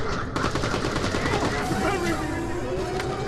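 Enemy gunfire in Borderlands: The Pre-Sequel crackles as rapid, close automatic bursts over a continuous wash of game noise, with a whooshing sweep in the middle.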